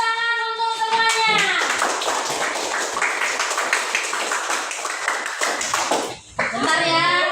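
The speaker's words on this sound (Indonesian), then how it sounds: "Tepuk tangan untuk semuanya." Group of children clapping hands together during a school Hajj ritual practice, brisk and fairly close for about five seconds, with a voice heard before and after.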